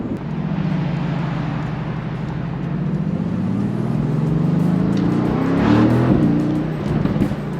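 A 2018 Mercedes-AMG GT V8 engine roars and revs up close, with short crackling pops bursting from the open exhaust as the revs rise.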